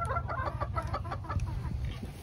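A backyard flock of Polish and Silkie chickens, with a smooth rooster and frizzle hens, clucks in low, close, overlapping bursts, a busy murmur of short calls without pause.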